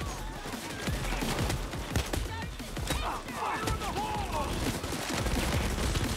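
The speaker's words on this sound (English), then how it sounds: "Oh, the sentry turret." Rapid automatic gunfire from a sentry turret in the video game Payday 2 crackles steadily through a dense, chaotic firefight, with overlapping shots and thuds filling the scene and voices mixed in.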